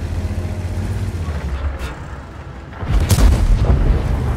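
A deep, booming tank cannon shot from a Centurion Action X medium tank in a video game rumbles out loud and close, following a quieter stretch of low mechanical droning.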